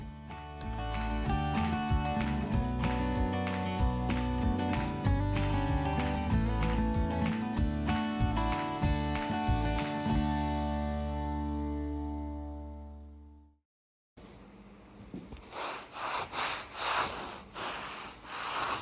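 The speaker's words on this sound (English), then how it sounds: "I grabbed a block and a piece of 120 grit sandpaper and gave it a sand" A concrete countertop is hand-sanded with a block and 120 grit sandpaper, with rhythmic scratchy back-and-forth strokes coming in near and clear after music fades out.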